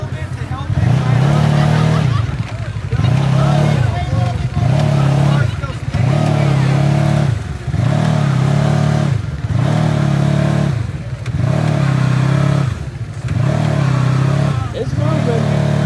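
A loud Arctic Cat off-road vehicle engine revs close by on a trail ride. It rises and falls in repeated surges every couple of seconds with a steady droning growl underneath.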